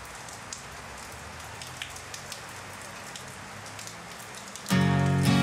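Steady rain patters on a surface with scattered distinct drips, close and continuous, until music suddenly comes in over it near the end.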